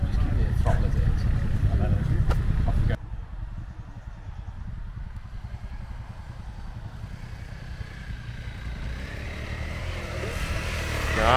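An off-road motorcycle holds a constant throttle on a steep climb, giving a steady mid-pitched engine drone with some clatter, loud and close throughout and rising slightly toward the end.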